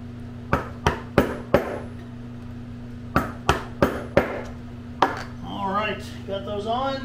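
Sharp metallic hammer taps on a rivet setter, struck in two quick groups of four, then a single strike, followed by someone speaking.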